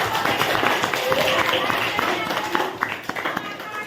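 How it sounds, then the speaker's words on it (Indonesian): Classmates in a classroom clap for a group that has just presented on series and parallel circuits, a brisk patter of many hands close by, with voices talking over the clapping. "Tepuk tangan untuk"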